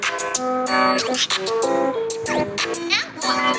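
Audio from YouTube playing through an iPhone 11's small speaker, a voice and music-like tones, bright and slightly tinny, steady throughout.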